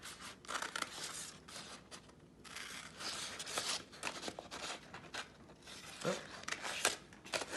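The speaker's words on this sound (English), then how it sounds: "So then what you do is you start to cut out your design. I'm going to cut across here." Scissors snip along a paper name design in close, repeated cuts with crisp scraping strokes, and a voice briefly speaks partway through.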